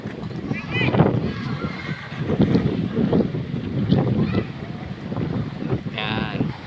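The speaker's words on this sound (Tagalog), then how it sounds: "Lakas ng hangin, guys." Strong wind buffets the microphone in an old, unfinished People's Park palace, a steady gusty roar running throughout under someone talking.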